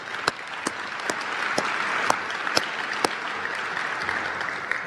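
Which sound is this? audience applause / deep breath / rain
audience applause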